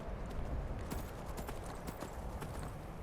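Horse hooves in the video game Skyrim clip-clop in a quick, steady gallop rhythm, close and loud against a dense background rush.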